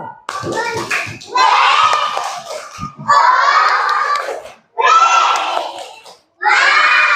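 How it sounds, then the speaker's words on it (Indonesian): Children in a primary school classroom clap their hands in several loud, rhythmic bursts separated by short pauses. Young voices shout and chatter through the clapping. "Tepuk tangan untuk kelompok C."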